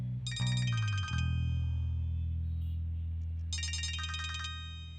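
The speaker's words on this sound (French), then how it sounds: "Ton téléphone sonne." A phone ringtone plays a bright, repeating melodic pattern in two loud bursts with a pause between them, over a steady low hum in a domestic drama scene.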